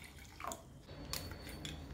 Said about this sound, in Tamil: ஒரு 2 கிளாஸ் தண்ணி ஊற்றிக்கலாம்.